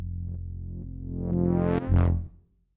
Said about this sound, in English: This horn is resampled with a lot of reverb,